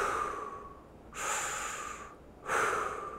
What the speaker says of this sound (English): I'm gonna breathe up into, or breathe into my belly